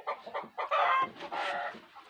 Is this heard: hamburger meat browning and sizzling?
no